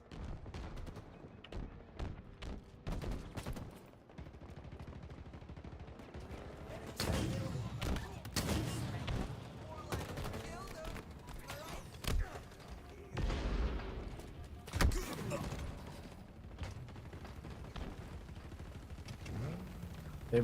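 Gunfire and explosions from a Halo video game, including a grenade launcher blast destroying a Warthog vehicle; rapid irregular bursts of shots and booms come in clusters over a steady game background.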